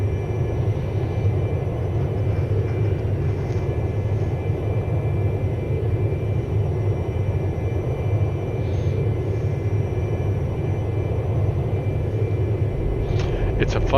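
A Citation II business jet in the X-Plane 11 flight simulator drones with a steady, even engine rumble and broad whine, unchanging and continuous throughout.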